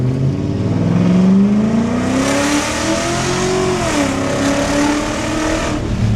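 BMW E39 5 Series sedan engine revving hard, the pitch climbing in one long rising sweep, dipping, then holding a loud, close, sustained drone with no talking.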